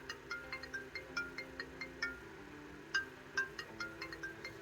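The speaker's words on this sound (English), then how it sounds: "It can chime and vibrate or just vibrate." Notification chime of a JELLOO (EIGIIS) KE3 sports smartwatch with LED light: a quick run of short, bright electronic tones repeating in a lively pattern, faint and alone.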